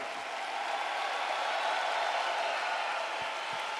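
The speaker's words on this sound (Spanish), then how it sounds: "ese aplauso a Él" Church congregation applauding, a steady, even wash of many hands clapping that fills the room at moderate loudness, with no pauses or talking.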